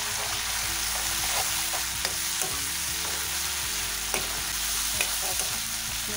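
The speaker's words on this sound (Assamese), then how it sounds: "তেলতে কাশ্মীৰি জলকীয়াটো দিম" Kashmiri chili frying in hot oil gives a steady, close, crackling sizzle throughout, with faint occasional clinks of stirring and no talk.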